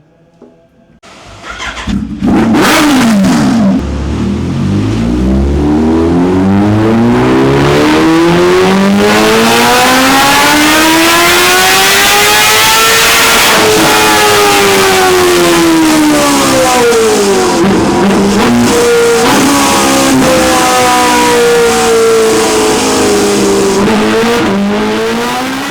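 A Kawasaki H2 motorcycle engine on a dyno after timing and fuel adjustments, revving loudly through repeated rising pulls, the pitch climbing, dropping back and climbing again, with no talking.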